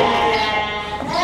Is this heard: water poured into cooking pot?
no